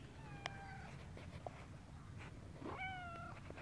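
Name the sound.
cat meowing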